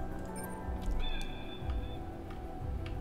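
A cat meowing in the puzzle game Timelie, a few short high mews over a low musical game soundtrack, soft and fairly near.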